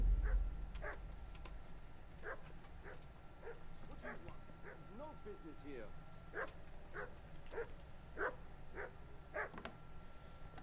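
A dog barks repeatedly in the video game Kingdom Come Deliverance, a series of sharp yips and barks at regular intervals, moderately distant, with a brief spoken line mixed in.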